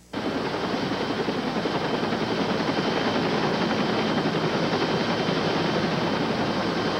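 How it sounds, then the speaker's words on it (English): An AirMed medical rescue helicopter gives a loud, steady rotor and engine roar that sets in abruptly and holds unbroken throughout, close and with no voices. "five-year-old Giselle were taken by AirMed helicopter to Terrebonne General Medical Center"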